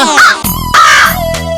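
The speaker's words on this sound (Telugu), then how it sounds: "అదిగో కాకి నిజంగా వచ్చి" A crow caws loudly and close by, with two harsh calls in quick succession over a busy outdoor background.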